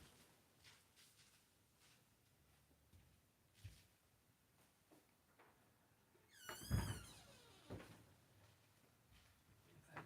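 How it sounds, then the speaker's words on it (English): A door closing indoors, a sudden loud thump with a brief creak and rattle partway through, set among quiet scattered knocks and handling noises before and after. "I gotta close this door"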